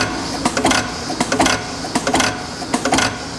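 Snow inclined automatic drilling machine running, with repeated mechanical clatters as parts slide down a chute, hit a stop arm, release and get drilled, giving a steady rhythmic cycle of about one stroke every half second, close and fairly loud.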